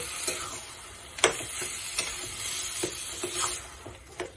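Pav bhaji is stirred in a cooking pan, with soft scraping and occasional spoon taps against the pan over a faint sizzle, fairly quiet and close.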